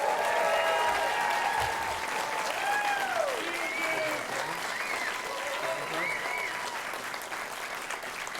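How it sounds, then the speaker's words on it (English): An audience at an indie film awards show applauds warmly, a dense sustained clapping that swells at first and then slowly eases over several seconds. "Give a round of applause to Miss O'Hara right now."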